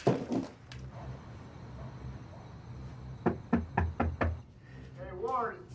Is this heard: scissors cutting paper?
no